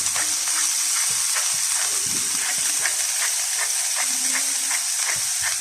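Pork beefburger patties caramelising in a hot pan give off a steady, loud hiss of steam and sizzle, with faint crackles scattered through it and no voices.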